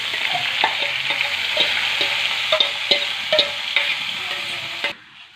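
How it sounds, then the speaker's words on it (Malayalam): Onions sautéing with curry leaves in a hot pan give a steady close sizzle, with irregular scrapes and taps of stirring, before the sound cuts off near the end. "നമ്മൾ ഉള്ളിയൊക്കെ വഴറ്റി കിട്ടും."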